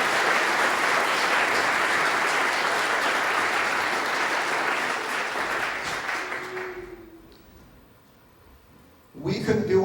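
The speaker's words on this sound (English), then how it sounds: "a round of applause for our Economic Development Director" Audience applause at a city State of the City address for the Economic Development Director, a dense steady roar of clapping from a full room that thins and fades out near the end before a voice starts to speak.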